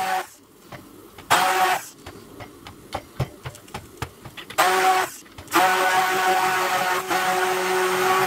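A blender puréeing cauliflower and coconut milk soup, running in loud whirring bursts separated by pauses filled with small clicks and knocks, the last burst holding steady to the end, close by and without talk.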